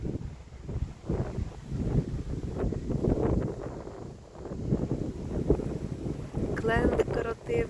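Steady cold wind roars across the microphone outdoors in Kórnik, gusting and buffeting throughout, with low rumbling noise and faint movement beneath.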